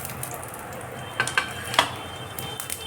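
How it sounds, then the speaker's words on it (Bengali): Whole spices (bay leaf, dried red chilli, peppercorns, cloves, cinnamon, cardamom) hit hot oil in a pan for a Bengali tyangra fish curry, a steady sizzle broken by a few sharp crackles and clinks, no talking. "তেল গরম হয়ে আসছে, এখন ফোড়নগুলো দিয়ে দিচ্ছি।"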